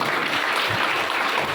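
An audience at a Hindu religious discourse applauds in a steady, dense wash of clapping that holds at an even level throughout.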